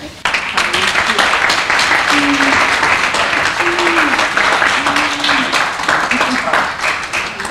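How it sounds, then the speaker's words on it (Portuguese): Loud, sustained applause from an audience at a ceremony where names are being called, with a voice speaking over it intermittently. "As palmas."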